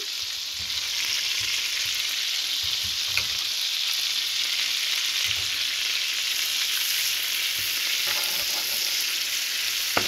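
Garlic fries in oil and butter with a dense, continuous crackling sizzle, close by and even in level, broken now and then by faint knocks from stirring.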